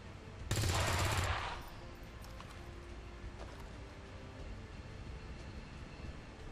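A burst of rapid automatic gunfire shooting an enemy in XCOM 2, loud and dense for about a second, then fading into low ambient game sound.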